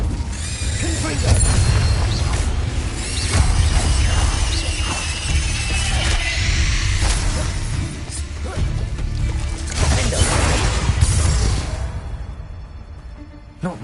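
Confringo explosive spell cast in combat in Hogwarts Legacy, dense crashing and shattering impacts with booms over continuous loud battle noise.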